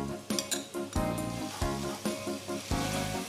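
Spice masala sizzling loudly in a pan as water is added while cooking ghugni, a crackling, hissing fry with rhythmic clinks and scrapes of stirring.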